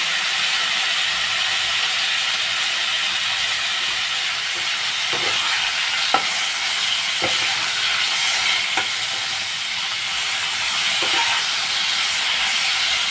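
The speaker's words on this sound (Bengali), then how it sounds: "এখন আমি কপি আর আলুগুলোকে ভেজে নিব।" Cauliflower florets and potato pieces, rubbed with a little turmeric and salt, fry in hot oil for a Bengali fish curry, giving a steady close sizzle and hiss with occasional soft clinks and stirring taps; no talking.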